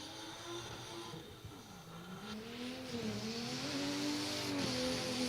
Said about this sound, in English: we have Tim Frito out on track piling around his BMW E36